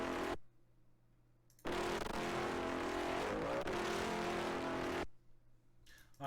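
Distorted synth pad Rohr by Xenofish, a gritty, roaring sustained tone that swells in for a few seconds and then cuts off, with quieter gaps before and after.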